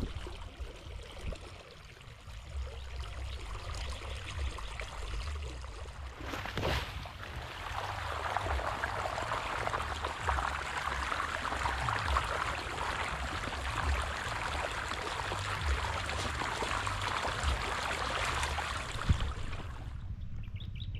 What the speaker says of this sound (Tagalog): Malakas yung presyon niya ng tubig.